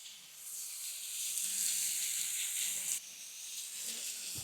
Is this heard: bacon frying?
yes